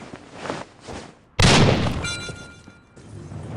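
A thrown bomb explodes in a battle royale video game with a sudden loud boom that tails off over a second, amid faint game noise before and after.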